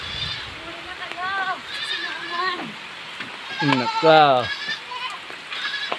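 Goats bleat repeatedly inside a goat house on a farm, several close, wavering cries in short bursts, with people talking and exclaiming between them.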